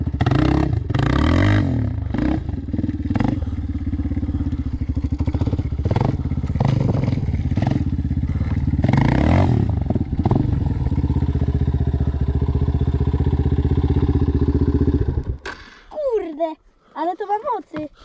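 Yamaha Raptor 250 quad engine droning steadily while riding off-road, a loud continuous mid-pitched hum with rising and falling revs for about fifteen seconds, then cutting away to quieter sounds; people talk over it.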